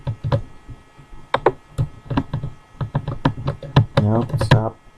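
Typing on a computer keyboard in a home recording setup, rapid irregular clicks and taps close to the mic, with a brief burst of voice near the end.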